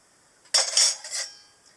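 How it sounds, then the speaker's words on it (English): Metal parts of a Lixada wood gas stove, a dish and a folding ring, clink and clatter together in a brief close burst of bright jangling, then fall quiet. "Got a dish, got a little ring with, I guess these fold out to make a stand for your kettle"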